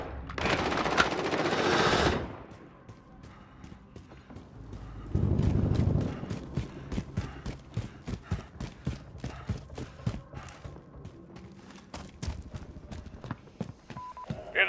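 Rapid gunfire bursts in Call of Duty: Modern Warfare night-mode realism gameplay, with sharp repeated shots in quick rhythmic strings, loud blasts and a heavier explosion-like roar, continuing through most of the stretch without talk.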